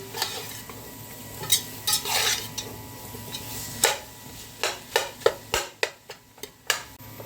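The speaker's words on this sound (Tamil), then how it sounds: "சிக்கனை வந்து இந்தமாரி வந்து ஜல்லிக்கரண்டியால் வந்து கொத்தி விட்டுக்கலாம்" Chicken broken up in a pan with a slotted spoon for a chicken cheese parcel dish, a series of quick sharp scraping taps and clacks of the spoon against the pan over a low sizzle, growing rapid and rhythmic toward the end.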